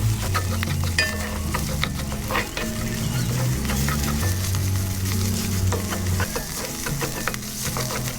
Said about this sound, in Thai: ผัดที่แกงให้สุกหอมด้วยไฟอ่อนๆก่อนนะครับ